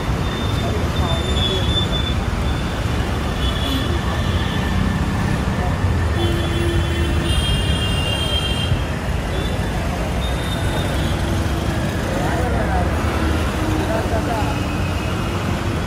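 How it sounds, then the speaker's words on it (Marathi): Steady roar of heavy traffic on a large highway road near Thane, Mumbai, with passing buses, cars and trucks forming a continuous wash of noise throughout, fairly loud and close, occasional horn-like tones above. "तुम्ही बघू शकता पाठीमागच्या साईडला हायवे रोड आहे मोठा"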